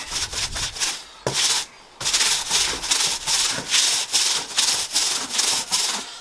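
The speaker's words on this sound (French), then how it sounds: "je vais continuer en travaillant dans le sens du bois, en insistant bien sur la brosse" A stiff brush scrubs a wooden deck along the grain, a steady, close, loud rasping in rapid back-and-forth strokes with one brief pause, no voices.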